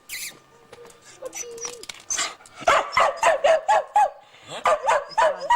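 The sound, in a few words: dog barking excitedly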